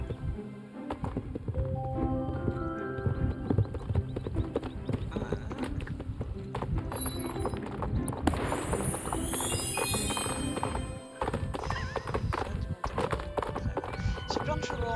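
Horses in the online game Star Stable Online clip-clop along in steady hoofbeats, mixed with other game sounds and busy background audio for the whole stretch.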